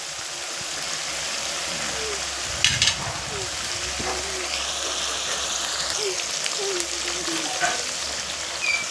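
Boal fish frying in mustard oil while being stirred, a steady crackling sizzle running throughout with a few brief utensil scrapes against the pan.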